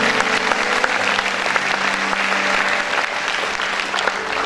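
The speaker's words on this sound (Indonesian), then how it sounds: "sekali lagi kita berikan tepuk tangan buat mereka" An audience at a youth Christmas service claps in sustained, dense applause that keeps an even level for several seconds, with no speech over it.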